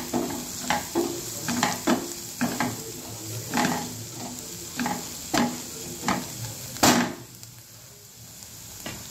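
A spoon stirs turmeric into okra frying in a pan, with rhythmic scraping strokes about every second over a soft, constant sizzle, close and without talk.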